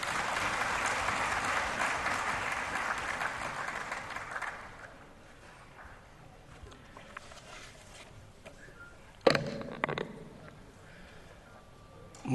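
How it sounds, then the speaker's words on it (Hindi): Audience applause at the valedictory session of a national conclave in a hall, loud sustained clapping for about four seconds that fades to a quieter tail, with a few scattered claps and a brief burst later. "जोरदार तालियां।"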